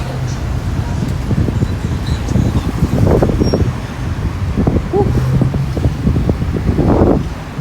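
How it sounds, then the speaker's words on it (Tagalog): Wind rushes steadily across the microphone with low rumbling buffeting during a bike ride, while a voice speaks faintly underneath. "medyo mahangin ngayon mga ka-vlogs"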